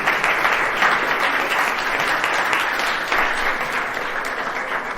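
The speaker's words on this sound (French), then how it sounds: "je vous propose de l'applaudir" Steady, dense audience applause for a guest speaker at a French sports event, a loud wash of many hands clapping at an even level throughout, with no talking.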